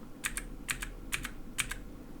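Typing on a Battletron computer keyboard from Action: four pairs of crisp, close key clicks in a steady rhythm, heard alone.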